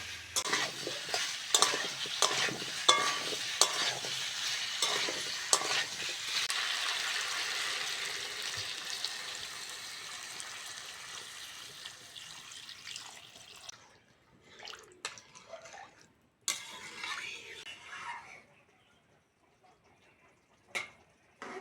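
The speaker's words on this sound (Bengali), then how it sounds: "এবার জল দিয়ে দেব" Water goes into a pan of fried elephant foot yam, raising a loud hissing sizzle that slowly dies down over several seconds, followed by quieter scattered clinks and stirring noises.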